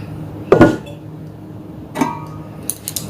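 Metal parts of an idli maker are handled, producing two or three distinct clanks and clinks of metal pieces knocking together at close range, with quiet room noise in between.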